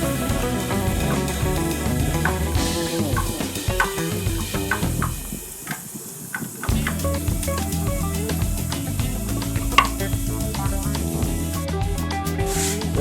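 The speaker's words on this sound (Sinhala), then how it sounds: "ඊපස්සේ මුලින්ම සුදු ලුණු ටික බැද ගන්නවා තෙලේ." Garlic frying in hot coconut oil in a heated pan gives a steady, close hiss and sizzle lasting throughout, dipping briefly quieter midway before returning at full strength.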